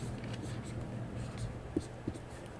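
A pen scratches across paper in quiet, irregular handwriting strokes, with a couple of soft taps and faint breathy murmurs in the background.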